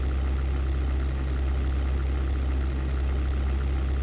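Damaged aircraft engines running at low power in the 1998 flight game European Air War, a steady low droning hum with a constant deep throb and no voices.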